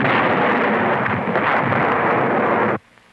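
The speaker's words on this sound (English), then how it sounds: "This is a 5-room house and the effect of 50 pounds of dynamite." A fifty-pound dynamite charge blasts apart a five-room house in a sustained, loud roaring rumble that cuts off abruptly to near silence, with no voices.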